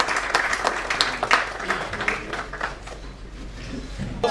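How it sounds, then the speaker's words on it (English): Applause fills the hall at a national CSR summit and awards ceremony, a steady round of clapping from a seated audience with distinct nearby claps over the crowd, gradually tapering. "Ladies and gentlemen, a big round of applause"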